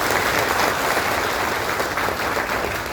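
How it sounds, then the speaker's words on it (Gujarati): A large crowd at a political gathering in Surat claps loudly and continuously, a dense, even roar of applause with no talk over it. "એકવાર તાળીઓથી"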